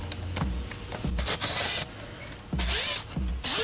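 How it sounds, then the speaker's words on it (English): Screws being removed from the air filter box of a 2018 Buick Enclave, with short mechanical whirring bursts of a power driver repeating several times close to the microphone, separated by brief pauses. "So we'll go ahead and remove all 5 screws."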